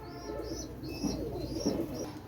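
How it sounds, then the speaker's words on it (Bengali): Teddy pigeons of a Pakistani import bloodline cooing softly in a repeated, gentle rhythm, with faint higher chirps from other birds nearby and steady background noise. "আপনারা জাস্ট কবুতর পেয়ারটা দেখেন, ভালো লাগবে আপনাদের।"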